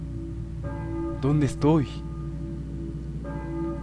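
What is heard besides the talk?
church bells ringing in Silent Hill video game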